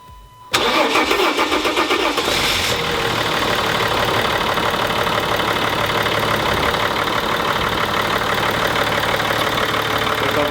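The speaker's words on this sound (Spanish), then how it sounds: "le hemos quitado la presión, por eso le cuesta un pelín arrancar" A car engine cranks for a moment after an injector seal change with the fuel pressure bled off, then catches and settles into a steady, loud idle that runs on close by without any voices.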